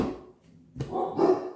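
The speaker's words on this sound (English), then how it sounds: "You gotta love my dogs." Pet dogs Scooby and Scrappy Doo barking indoors: one sharp bark, then a brief pause, then a short run of louder, yelping barks close by.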